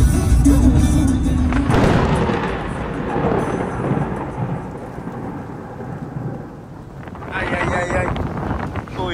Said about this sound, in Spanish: Comenzó a llover.